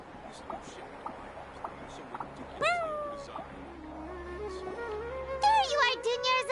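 Cat meows in the video game Genshin Impact, several drawn-out rising and falling calls, the last ones loud and close, mixed with soft footstep-like taps and faint game music underneath.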